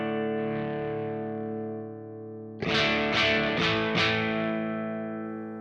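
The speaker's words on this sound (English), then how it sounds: "It's kind of like edge of breakup-ish." Electric guitar through a Kemper Stage at edge-of-breakup gain rings out a sustained chord that fades, then four harder-picked strummed chords bite in with more grit, alone and close.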